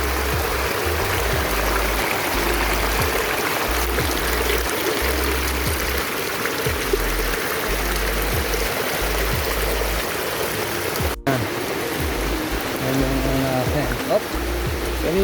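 A waterfall rushes during Typhoon Ramil, giving a constant loud roar of flowing water with a few faint low thumps and no clear voices.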